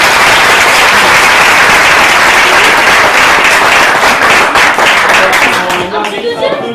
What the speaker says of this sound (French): Première applaudissement